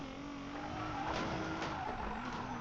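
A car braking hard and skidding in the Need for Speed Payback video game, a sustained tire squeal over engine drone, steady and moderately loud.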